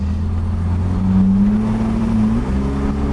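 BMW E30 with a ZF 4HP22 automatic gearbox pulling hard, a loud close engine drone whose pitch rises steadily then steps as the gearbox shifts.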